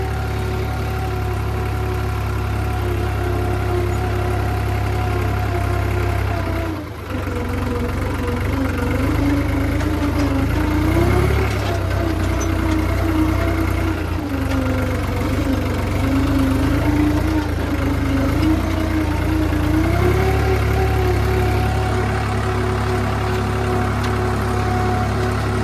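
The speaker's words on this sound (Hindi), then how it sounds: "1500 RPM के आसपास चला रहा हूँ।" A tractor engine runs at about 1500 RPM while working a field with harrow and cultivator, a loud steady diesel rumble whose pitch gently rises and dips under load, with one brief dip near the start.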